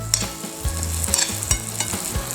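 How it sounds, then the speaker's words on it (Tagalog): Pork sisig mixed with egg is stirred briskly in a hot pan. Loud, close sizzling is broken by rhythmic utensil scrapes and clinks about every half second. "Kaya haluin na po natin siya."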